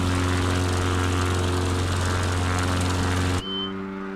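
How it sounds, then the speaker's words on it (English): A bush plane takes off from Olga Bay on Kodiak Island, Alaska, its propeller engine droning loud and steady with strong harmonic hum before the roar suddenly drops away and a fainter engine tone remains. "Departing aircraft."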